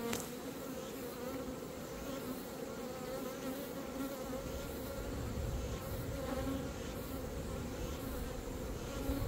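Honeybees in an opened beehive during an inspection give off a dense, continuous buzzing that stays close and steady throughout, with no voices.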